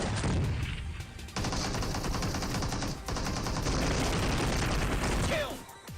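S12K shotgun fire in a PUBG team deathmatch, loud dense bursts of rapid shots crowding the mix, with brief gaps between volleys and a tail-off at the end.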